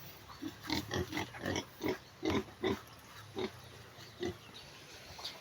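Small piglets grunt in a series of short, low snorts at an irregular rhythm, close and fairly loud over a faint background hum.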